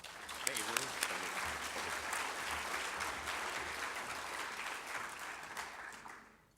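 An audience at an occupational hygiene conference plenary session applauds to welcome a speaker: dense, steady clapping from a full room that holds for several seconds, then dies away.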